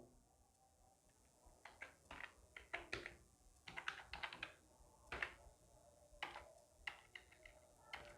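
Typing on a computer keyboard while a PAN card number is entered in Tally accounting software: irregular runs of close, crisp keystrokes with short pauses between bursts, no voices.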